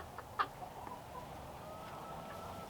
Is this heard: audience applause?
no